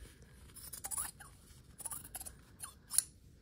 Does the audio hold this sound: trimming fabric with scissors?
yes